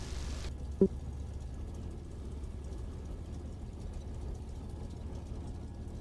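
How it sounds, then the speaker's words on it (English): An aircraft engine runs steadily in a flight simulator game, a constant low drone with no talk over it, broken only by one brief click near the start. "My engine's running."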